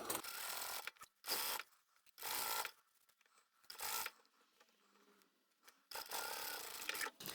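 A sewing machine stitches a straight seam along the side of an oversized blouse being taken in. It runs in several short, loud bursts with quiet pauses between them, ending in a longer run.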